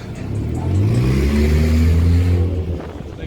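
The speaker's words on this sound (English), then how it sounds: "Look at all the cars speeding." Cars speeding past on a windy downtown Chicago street, a close engine roar rising as a vehicle accelerates by, swelling to a peak then fading, loud against background city noise.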